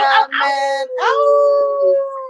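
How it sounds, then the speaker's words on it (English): A dog howls nearby in the morning, a loud, drawn-out tonal wail preceded by two short rising yelps, clear and alone. "we got Patrick over there howling this morning too."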